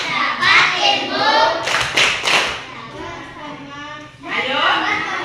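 A group of schoolchildren in an Indonesian classroom claps through a rhythmic clap chant, with bursts of sharp clapping between stretches of loud group voices chanting and talking.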